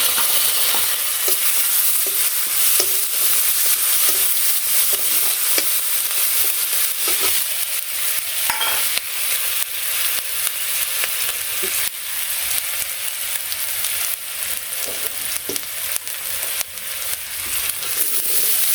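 Onion and garlic paste frying and being stirred for a sour fish curry with local gajar fish, a steady close sizzle with scattered soft scrapes of a spoon in the pan throughout.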